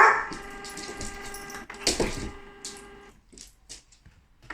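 Dog barking indoors beside a home inkjet printer, a few short loud barks early on over a steady tonal hum, then fading to quieter intermittent sounds.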